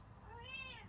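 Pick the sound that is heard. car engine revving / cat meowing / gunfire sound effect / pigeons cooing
cat meowing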